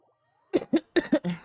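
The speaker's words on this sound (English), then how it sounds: "I will be coughing far more than that is necessary" A person coughs five times in quick succession, sharp close bursts with brief gaps, the last one drawn out slightly longer, after a moment of near silence.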